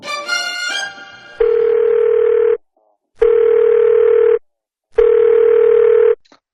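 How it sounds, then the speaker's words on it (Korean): A telephone on an outgoing call: a short burst of dialing tones, then three steady, loud ringback tones, each about a second long and separated by silent gaps. "전화를 한번 걸어볼게요"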